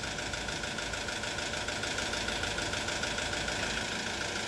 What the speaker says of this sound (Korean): 1번 인젝터가 죽고 엔진 RPM이 헌팅되는 것을 느낄 수 있습니다